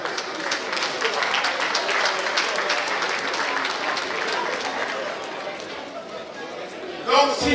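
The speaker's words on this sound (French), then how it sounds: "Est-ce qu'on peut acclamer pour ces couples?" A crowd applauds and cheers for a couple celebrating their 60th wedding anniversary and a father's 85th birthday at an evening party. Dense, steady clapping and chatter fill the room throughout, with a brief louder burst near the end.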